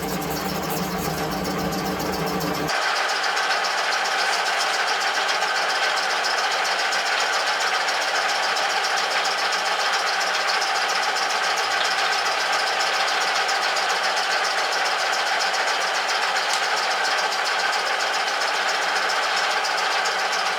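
A lathe lapping an aluminium taper with kerosene and Scotch-Brite hums steadily and continuously, its tone shifting once early on and then holding even throughout.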